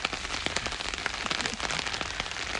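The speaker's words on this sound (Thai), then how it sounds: "วันนี้ป้ายอมตากฝนเลยนะคะ" Steady rain patters over a dragon fruit orchard in a dense, continuous hiss, with scattered individual drops ticking close by and no voices heard.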